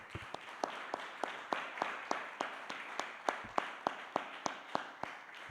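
A church congregation claps in a steady, evenly spaced rhythm during a worship service, the sharp hand claps fairly soft and somewhat distant against a quiet room.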